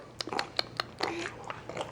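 A young child chews and bites soft banana, producing small wet smacking and crunching sounds in irregular bursts, faint and close.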